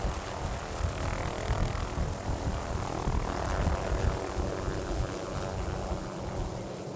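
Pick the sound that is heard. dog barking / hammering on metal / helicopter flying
helicopter flying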